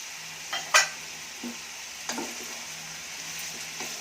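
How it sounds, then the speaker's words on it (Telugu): A spoon scrapes and taps through peas and mixed vegetables frying in a pan for vegetable kurma, a few sparse close clinks over a faint low sizzle, with no talking. "అన్నీ ఒకసారి ఇట్లా తిప్పేసి మసాలా పేస్ట్ అంతా వేసుకుందాం"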